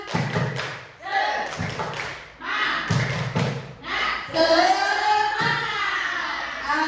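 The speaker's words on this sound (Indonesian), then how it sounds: "1, 2, 3, tepuk semangat" A group of children and adults performs the rhythmic 'tepuk semangat' spirit clap in a school setting, with bursts of patterned hand claps alternating with chanted voices and ending in a loud group shout.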